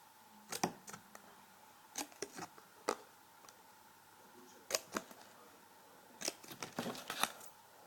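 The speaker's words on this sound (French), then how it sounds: "il suffit de découper par rapport aux marques que vous avez fait à peu près à la moitié de votre bloc de papier" Scissors snipping through a block of paper, a series of sharp, crisp cuts in irregular clusters with quiet pauses between, close and alone.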